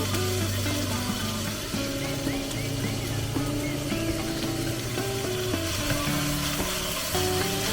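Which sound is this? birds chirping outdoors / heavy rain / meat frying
meat frying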